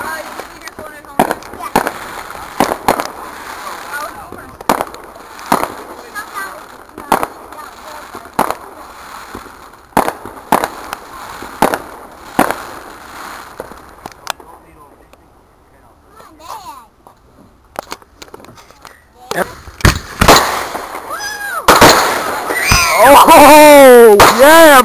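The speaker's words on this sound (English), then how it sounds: "Come on, continue with the firework." Fourth of July fireworks going off in a rapid series of sharp bangs and crackles, some near and some farther off, with people talking and a voice between blasts and a whistling burst near the end.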